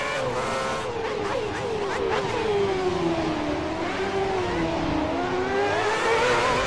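Race cars in the F1 2010 video game at Bahrain roar past, including a Renault, with loud engine whine sweeping up and down in pitch as the cars accelerate and overtake, continuous and close with no pauses.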